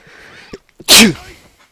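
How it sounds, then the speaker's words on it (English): A single loud, sharp human sneeze bursts close to the microphone after a brief breathy intake, quiet before and after. "But you probably got the full force of that sneeze."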